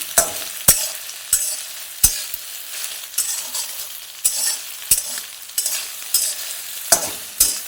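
Squeezed, dried soybean chunks fry in oil while being stirred: sharp spoon-on-pan clacks land at irregular intervals over a soft, steady sizzle, close and fairly loud.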